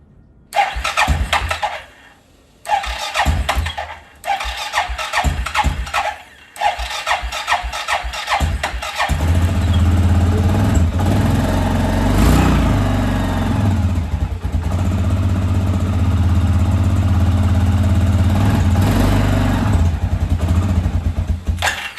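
An ATV engine with a newly repaired fuel pump cranks in several short stuttering attempts, then catches and settles into a loud, steady idle that rumbles on to the end.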